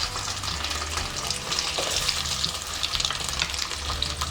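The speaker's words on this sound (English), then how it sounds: "So we need to saute these chops" Soya chaap pieces sizzle steadily in a small amount of oil in a kadhai, a continuous close frying hiss with faint stirring clicks and no voices.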